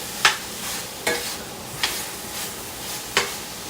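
Chicken and roasted vegetables brown in a pan on a stovetop, a soft continuous sizzle broken by four or five sharp scraping strokes of a utensil stirring, fairly quiet and close.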